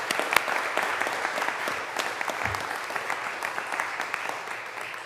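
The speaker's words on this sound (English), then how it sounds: "Let's give Kimberly another round of applause." Steady applause from an audience at a county board of commissioners meeting fills the room, a dense, even patter of many hands clapping throughout.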